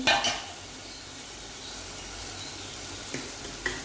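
Potatoes with turmeric and salt being stirred in a pan for a dry Gujarati potato dish, a soft low sizzle with a few faint spoon scrapes and clinks against the pan.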